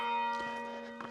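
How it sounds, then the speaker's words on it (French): A small church bell rings at the Sainte-Baume grotto, one clear struck tone with long humming overtones that slowly fade, close and alone without any voices. "on entend la petite cloche, magnifique"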